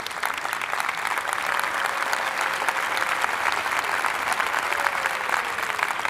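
An audience applauds in honor of a graduation, a dense, steady patter of many hands clapping without pause.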